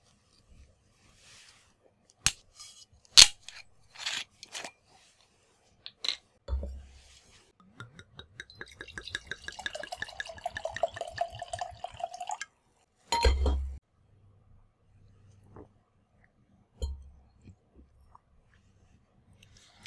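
A glass of Malbec wine being poured, with scattered clinks of glass, then a steady gurgling pour of liquid for a few seconds, followed by a few more knocks and a faint clink, close and quiet.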